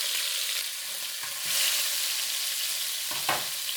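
Garlic and ginger paste frying in hot oil for a green bean and shiitake stir fry: a bright, continuous close sizzle with brief stirring scrapes, no voices.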